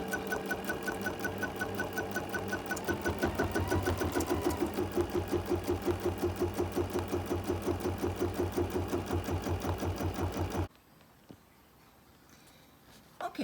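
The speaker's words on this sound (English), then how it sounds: "Okay, so I'm going to start my machine" Bernina sewing machine stitching a mug rug, a loud, steady rapid clatter of needle strokes for about ten seconds before stopping abruptly, leaving faint room quiet.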